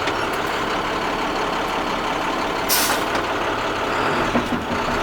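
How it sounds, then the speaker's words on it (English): Truck engine revving briefly under light throttle while in drive with brakes held, a steady broadband rumble with a short hissing burst like air brakes midway, loud and close, no talk. "We're going to put our truck in drive, give it a little bit of gas, make sure the truck doesn't move."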